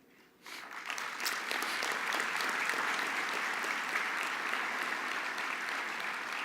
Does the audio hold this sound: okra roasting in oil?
no